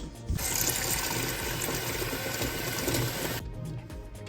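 Water pours steadily into a pot for a few seconds, a continuous rushing splash that stops abruptly.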